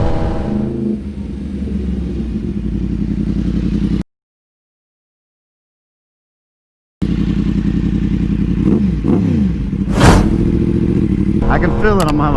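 A Yamaha MT-10 1000cc super naked motorcycle engine rumbles steadily up close, cuts out for a few seconds of silence, then returns with sharp revving bursts toward the end.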